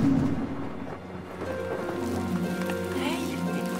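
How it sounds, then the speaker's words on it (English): Rain pours indoors as a comedy magic trick, a soft steady patter of falling water with a low rumble, while light musical tones rise over it. "He made it rain indoors."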